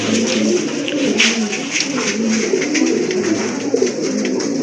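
Pigeons in a Bengali breeder's loft, cooing steadily in soft, repeated low throaty calls, close by, with faint background murmur.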